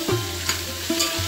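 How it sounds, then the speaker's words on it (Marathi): Tomato, grated ginger and vegetables stirred together in a cooking pot over rice, with a hot sizzle underneath and a couple of distinct scraping stirs, close up and without any voices. "छान सगळ्या भाज्या अशा मिक्स करून घ्यायच्या."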